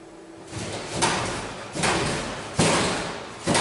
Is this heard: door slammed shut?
yes